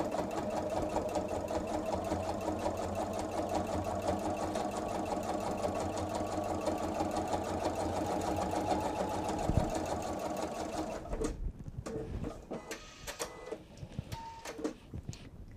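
Sewing machine running a steady, rapid top stitch on a wallet for about eleven seconds, close and even, then stopping into a few scattered clicks and handling noises.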